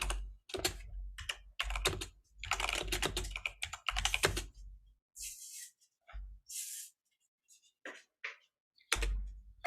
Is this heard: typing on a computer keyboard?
yes